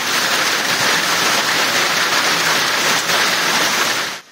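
Heavy thunderstorm downpour over Afyonkarahisar, a dense, steady roar of rain hammering surfaces, loud and close throughout before cutting off abruptly at the end.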